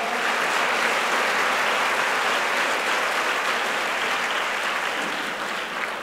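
Loud, sustained audience applause fills a birthday felicitation ceremony, a dense steady roar of clapping that holds for several seconds and eases slightly at the end.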